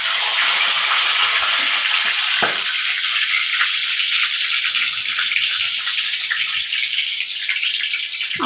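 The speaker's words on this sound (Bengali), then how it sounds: "সাদা জিরে তেজপাতা ফোড়ন দিয়ে দিচ্ছি" Bay leaf and cumin seeds sizzling in hot oil while cooking a papaya ghonto, a bright steady hiss filling the clip, close and loud with faint clatter underneath.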